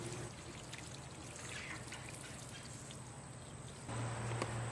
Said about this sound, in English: While we're still laying down, let's give it some water.